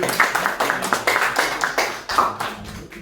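Small audience at a student talk show on tabletop games clapping for the moderator, a sparse handful of distinct hand claps in a loose rhythm, close and moderately loud.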